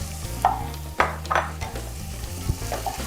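Garlic and onion sautéing in a little oil in a pan, crackling sizzle with several spoon scrapes and stirring knocks over a low hum, close by.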